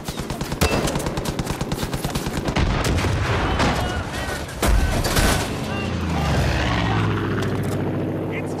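Aircraft machine gun strafing in the Far Cry 5 video game, rapid loud bursts of gunfire with booming impacts and explosions, dense and continuous, with a plane roaring over the chaos.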